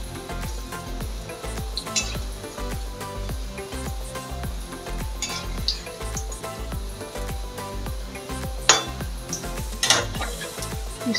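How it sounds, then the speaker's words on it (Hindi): Taro (arbi) leaves fry in a little oil in a pan, a soft sizzle under repeated clinks and scrapes of a metal utensil against the pan, close and steady with a few sharper knocks. "तेल हमने ज़्यादा नहीं डाला है, थोड़े ही तेल में हम तल रहे हैं।"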